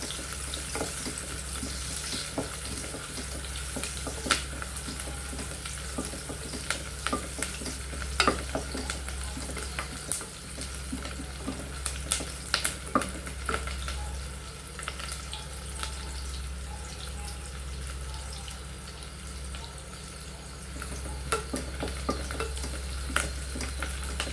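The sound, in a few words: small onions and garlic frying in a pan for biryani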